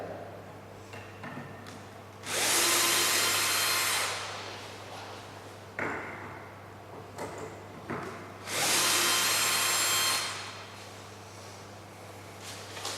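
A power drill backs screws out of a woodturning setup, two loud sustained whirring bursts of about two seconds each, separated by quieter handling clatter and room noise.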